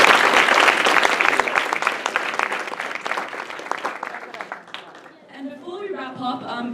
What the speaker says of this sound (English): A huge round of applause again for everyone here today.